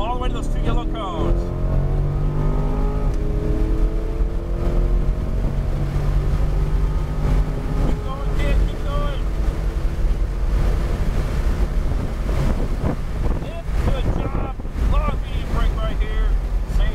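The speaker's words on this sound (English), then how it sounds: "All right, start to roll on that throttle." A C8 Corvette accelerates on the Palm Beach International Raceway track, its engine note rising in steady sweeping tones under heavy wind rush, while an instructor talks over the noise.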